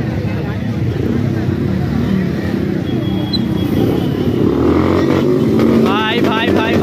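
A motorcycle at a busy underground superbike and car meet roars under hard acceleration, a loud rising engine drone among crowd noise and shouting voices nearby.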